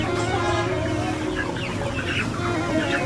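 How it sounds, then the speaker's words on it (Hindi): Chickens cluck in a busy poultry shop, a steady layer of overlapping fowl calls with occasional louder squawks, heard close and continuous over a murmur of background activity. "मुझे एक मोटा सा मुर्गा पकड़ा दे रहा"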